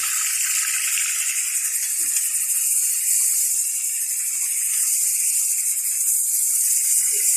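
Steady hissing, bubbling rush of a pot of water boiling on a stove, constant and fairly loud, with no voices.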